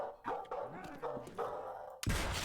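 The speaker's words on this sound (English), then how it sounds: "Oh, dog barking sound." Dog barking sound effect in Call of Duty: World at War Nazi Zombies custom map, a few short loud barks over game background noise, ending in a burst of louder noise.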